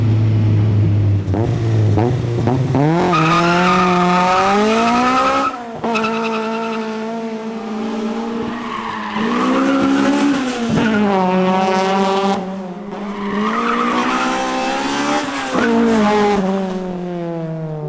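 A Honda CRX run hard around a track on a fast lap, its engine climbing and dropping through repeated rising revs with shifts, loud and close, with tire squeal mixed in and no talking.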